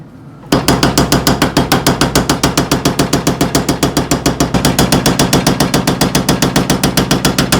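A mechanical power hammer forges thin Japanese blue steel knife blades, starting after a short quiet moment and then pounding in a fast, steady, machine-like rhythm of loud metallic blows, close and continuous with no talking.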